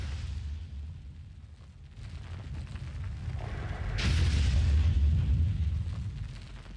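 A devastating explosion sound effect: a low rumbling build that bursts into a loud, deep boom with a sharp crack, followed by a sustained roar that slowly fades.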